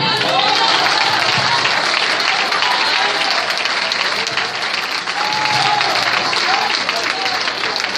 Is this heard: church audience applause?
yes